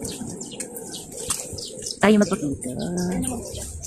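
Birds calling outdoors on a leisurely outing abroad, scattered chirps and a sharper burst of calls midway, mixed with people talking nearby.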